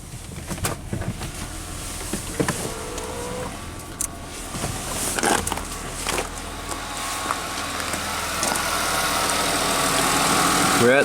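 A Nissan Maxima with a suspected weak fuel pump, overheating and long crank times idles steadily nearby, with a throttle snap partway through and a rising engine note toward the end, plus occasional clicks and brief speech.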